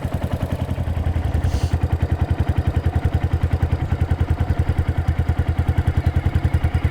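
A dirt bike engine thumps in a fast, even pulse up close as throttle is applied, loud and continuous with no voices.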